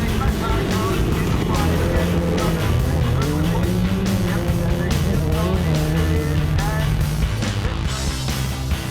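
Rallycross cars race around a circuit, Petter Solberg's among them, wrestling on with failed power steering; engines roar loud and continuous throughout, with shifting revs and tyre noise beneath, overlaid by a voice talking.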